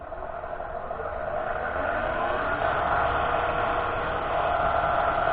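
A wood lathe spinning a glued-up segmented walnut and osage orange pen blank at about 2000 RPM gives a steady mechanical whir that builds slightly and then holds, with no talking.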